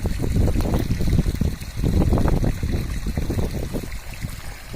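Water running through drip irrigation lines in a farm field, a steady close trickling and gurgling that fills the whole moment with uneven low splashy pulses.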